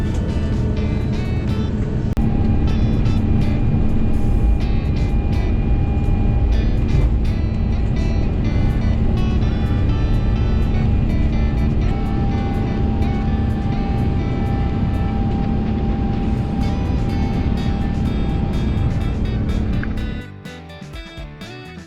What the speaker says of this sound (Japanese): 乗客の搭乗が完了するとすぐにゲートを離れ離陸態勢になります。